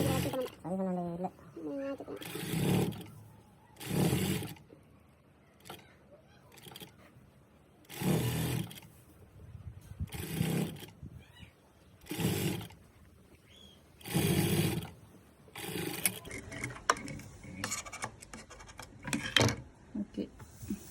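A sewing machine stitches a gown in bursts of steady mechanical whirring, several separate runs, close up, with a voice speaking between them.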